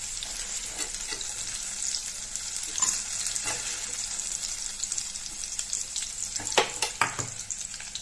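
Small onions and garlic sauté in oil in a pan for a kuzhambu, a constant bright sizzle with a few spoon scrapes and a short burst of clattering stirs near the end, no voices.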